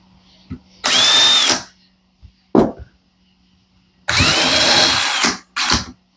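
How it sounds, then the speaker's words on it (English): A power drill whirs in two loud bursts while pre-drilling a console panel, each about a second long, with a short clunk between them and brief quiet gaps. "all we have to do now is use this drill to"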